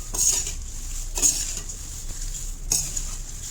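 Oil being mixed into poha in a pan with a metal spoon, close scraping and stirring with a few sharp clinks of metal on the pan, under a steady soft background hiss.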